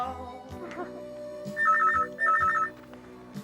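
A telephone rings indoors in two bursts of a bright electronic warble, close and loud, with a soft voice and household sounds before the first ring in a Hindi family drama setting.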